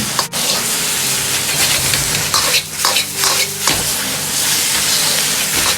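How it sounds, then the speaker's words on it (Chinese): Wood ear fungus stir-fried with green onions, oyster sauce and soy sauce in a hot wok gives a loud, continuous sizzle, with scraping stirs and bursts of steam close by. "下入控干水分的木耳，翻炒均匀"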